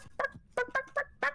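A man imitates a chicken with a run of five or six short, sharp clucking bursts in quick irregular rhythm, close and fairly loud.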